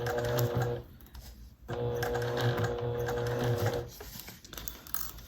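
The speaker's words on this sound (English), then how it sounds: "I'm sewing really slowly because I'm taking my time." A sewing machine stitches piping close to its tubing, running slowly in two steady whirring bursts with a brief pause between, ending in lighter mechanical clicks.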